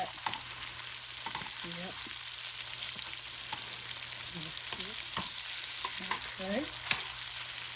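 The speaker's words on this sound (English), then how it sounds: "See that frying, it's smelling so good, y'all." Garlic butter shrimp fry in a pan with a steady, close sizzle while they are turned over, soft clinks and scrapes of a utensil breaking through, and brief words spoken now and then.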